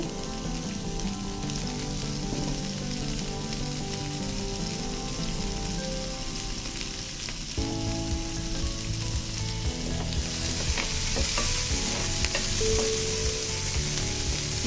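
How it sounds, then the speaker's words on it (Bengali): Onion greens frying in mustard oil in a pan, a steady soft sizzle with scattered crackle and occasional stirring, rising slightly in intensity partway through, with no voices. "পেঁয়াজের পাতাগুলো দিয়ে দিচ্ছি দিয়ে আমি একটু ভেজে নেবো"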